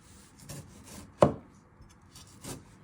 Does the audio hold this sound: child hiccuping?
no